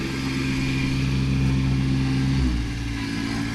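An elderly neighbour's tractor engine strains to push over a huge tree, a loud, steady diesel drone close by whose pitch drops and settles partway through.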